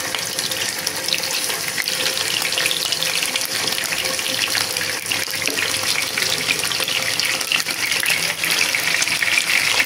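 Pieces of chicken fry in oil left from frying onions (beresta), giving a steady, dense sizzle and crackle close by that runs unbroken for ten seconds with no talking.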